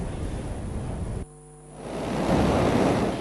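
Large sea waves and strong wind batter the Spanish coast near shoreline homes, a loud broadband roar of surf and gusts that drops away briefly mid-clip before surging back even stronger.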